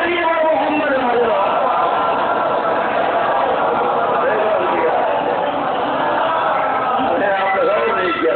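A congregation at a Muharram majlis recites salawat in unison, a loud, continuous blend of many voices chanting together.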